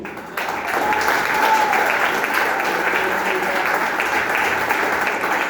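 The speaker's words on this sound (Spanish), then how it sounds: "Vamos a aplaudir al Señor." A church congregation breaks into steady, dense applause during a Sunday Bible school teaching, the clapping starting abruptly and holding loud and even throughout, with faint voices mixed in.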